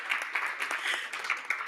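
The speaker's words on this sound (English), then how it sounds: "give them a round of applause" An audience at a conference on animal welfare and biodiversity applauds youth delegates: dense, steady crowd clapping that fills the whole short stretch at moderate volume, with no voices over it.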